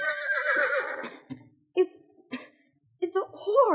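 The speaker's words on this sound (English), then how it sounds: "It was the whinny of a horse." A horse whinnies with a long, quavering neigh, followed by shorter snorts and whinny fragments after brief silences.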